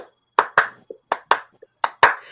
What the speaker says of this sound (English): Give me the Clipper clap.